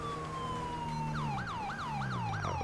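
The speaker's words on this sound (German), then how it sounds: "So, und hier fahren wir erstmal mit Blaulicht und Sirene schnell lang." A police car siren in GTA V sounds loud and close, starting as a long falling wail and then switching to a fast repeating yelp, heard over steady engine rumble.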